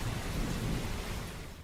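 Thunder rumbles low and continuous through steady rain, a dense stormy roar without distinct claps or any voices.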